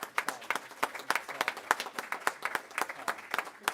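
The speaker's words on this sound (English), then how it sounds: "give a round of applause to all of these people right up here because they deserve it" An audience at a round table discussion with orthodontic lab owners claps steadily, dense and fairly close, with no voices over it.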